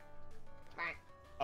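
A cartoonish duck quack from Duck Game cuts through in a short burst near the middle, then starts again at the end, over steady game music.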